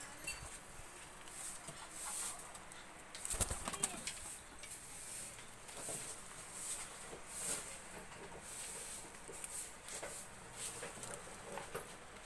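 Pigeons coo softly nearby, with intermittent bursts of wing flapping and rustling against a faint background hiss.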